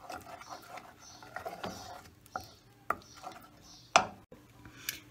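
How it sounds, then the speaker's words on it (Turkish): A spoon scraping and tapping around a pot while stirring a tahini and grape molasses mixture until it melts, with soft irregular scrapes and a few sharper clinks against the metal. "Şimdi bu da eriyene kadar karıştırıyorum."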